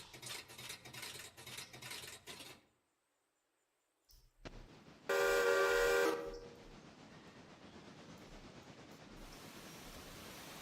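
A steam locomotive pulling a passenger train sets off uphill in a train simulator game, giving a loud steam whistle blast followed by steady hissing steam and low chuffing, with no talk.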